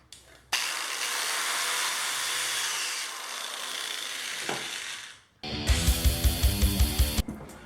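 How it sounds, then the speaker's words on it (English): A hand drill bores stitching holes through leather for a budget leather sheath, giving about five seconds of steady, close grinding whir, a brief pause, then a quick run of rhythmic clicking pulses. "now we're going to drill it out. And with the hand drill, it's a little tough."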